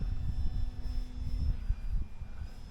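A Turbo Timber Evolution model airplane flies on a windy day in a gorge, its electric motor a steady low drone with gusty wind noise rumbling underneath.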